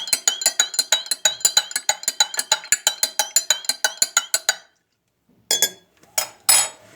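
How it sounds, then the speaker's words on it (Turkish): A metal spoon stirs a cleaning product inside drinking glasses, ringing in a fast, steady run of bright clinks that stops abruptly, then a few looser clinks and scrapes follow after a pause. "ve karıştırıyorum. diğerine de karıştırıyorum."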